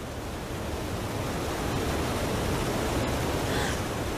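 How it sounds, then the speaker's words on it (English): A waterfall in the animated series Martin the Warrior gives off a continuous, loud rushing roar. It sounds like dense, steady white water with no pauses. "It's a waterfall!"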